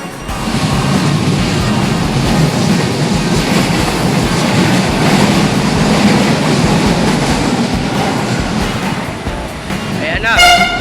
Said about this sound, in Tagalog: nasa kabilang platform yung tren.